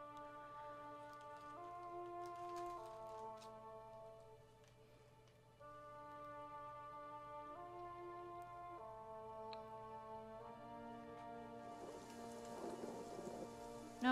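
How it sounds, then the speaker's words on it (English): Steady, quiet rain falls in Stormwall Gorge in Pillars of Eternity as a soft continuous patter beneath a melodic music score, with a brief louder hiss toward the end. "No, it's rainy as heck."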